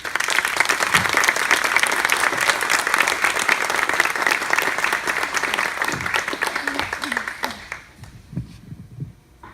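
An audience claps loudly and steadily to welcome a speaker at a reconciliation anniversary gathering, a dense sustained wash of applause that thins and fades out near the end.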